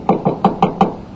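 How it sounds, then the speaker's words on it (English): A door being knocked on in a radio drama, five firm, evenly spaced raps in a quick run, close and clear with nothing else heard. "It was nearly 3 o'clock when I heard the door."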